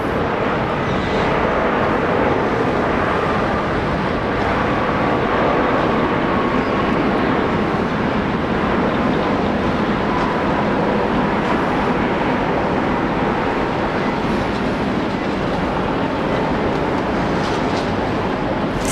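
A Singapore Airlines jet rolling down the runway at Brisbane airport after landing, a continuous broad roar of engines and rumble that stays steady for the whole stretch, moderately distant with no talk.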